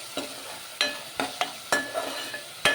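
Onions frying with salt in a pan for a rohu fish curry, a low sizzle broken by about seven sharp spatula scrapes and taps at irregular intervals.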